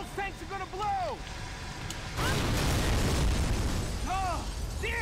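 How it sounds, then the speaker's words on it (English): Tanks blow up in the Gears of War 3 video game: a loud, broad explosive burst erupts partway through and rumbles on for a few seconds, with voices talking before and after it. "Those tanks are gonna blow."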